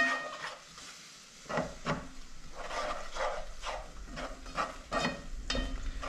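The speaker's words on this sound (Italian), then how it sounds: "Amalgamiamo il tutto." Barbecue sauce with onion and a few drops of tabasco is stirred in a pot: soft, faint scraping and sloshing strokes in irregular bursts over a quiet simmering hiss, with no voices.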